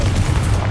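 Booming blast of a Confringo fire spell in the Hogwarts Legacy video game, a single loud, dense, rumbling burst heavy in the low end that lasts under a second.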